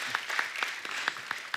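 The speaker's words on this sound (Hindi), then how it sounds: "पागलपंती के लिए जोरदार ताली हो जाए।" Studio audience applause on a Hindi comedy talk show set, a steady wash of many hands clapping with a few sharper claps standing out, continuous for the whole stretch at moderate level.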